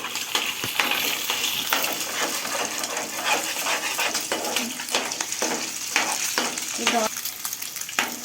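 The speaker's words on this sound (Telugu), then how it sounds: "కోడిగుడ్లు కూడా వేసేసుకుంటున్నా." Eggs fry in a hot pan as they are stirred, with a steady broadband sizzle broken by repeated scraping and tapping strokes of the spatula, close and fairly loud, with no talking.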